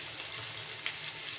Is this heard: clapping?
no